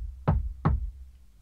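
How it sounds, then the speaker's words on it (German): Two sharp knocks on a wooden door, spaced about a third of a second apart, close and distinct against a quiet background. "so dass sich Amarin entschloss, noch einmal zu klopfen."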